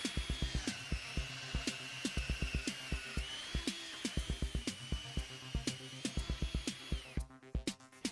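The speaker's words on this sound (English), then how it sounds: "Then make a series of drill holes along the line." A power drill boring a series of holes into a wooden door for a lock mortise, rapid repeated short bursts in an even rhythm, close and clear, with a denser rattling stretch at the end.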